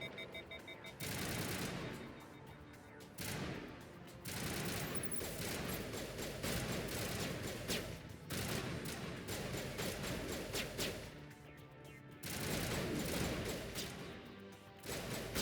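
Assault rifle fire aimed at a Geth Trooper in Mass Effect Legendary Edition: sustained automatic bursts lasting a few seconds each, separated by short pauses. The shooting is fairly quiet and distant-sounding overall.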